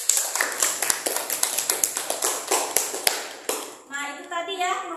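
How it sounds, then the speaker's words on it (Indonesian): A classroom of students claps in a burst of quick, close hand claps that fades out, followed by a voice speaking. "Tepuk tangan dulu untuk Nursabila dan Fili."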